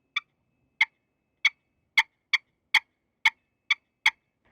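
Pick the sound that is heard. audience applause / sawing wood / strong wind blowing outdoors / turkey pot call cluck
turkey pot call cluck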